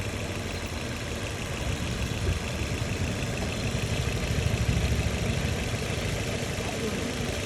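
The petrol engine of a Maruti Ertiga that has run 40,000 km idles with the AC off, a steady low rumbling drone that holds level throughout.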